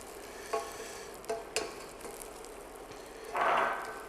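Butter added to caramel in a saucepan for popcorn, a few sharp clicks followed by a brief bubbling hiss that swells and fades, quiet and close.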